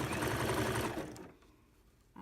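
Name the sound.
sewing machine sewing fold-over elastic onto a glove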